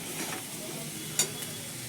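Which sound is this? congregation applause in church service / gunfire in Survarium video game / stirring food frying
stirring food frying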